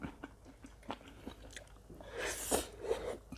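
Close, moist chewing and crunching on rice noodles dipped in sauce, with a few soft bites followed by a louder crunchy stretch near the end, no talk.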